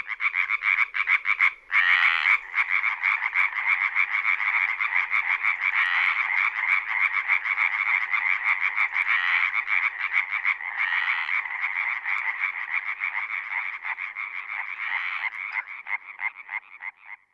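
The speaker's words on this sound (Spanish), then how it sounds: "ninguno resulta tan sonoro como el de la hila arbórea" A loud, dense chorus of European tree frogs calling at night from a pond, with rapid, overlapping croaks that continue without a break and no other sounds.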